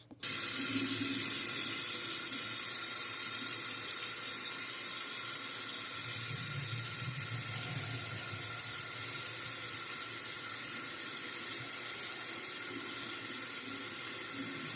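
Tap water pours steadily from a faucet into a sink while mustache product is being washed out, a constant close hiss and splash lasting about fifteen seconds without talk.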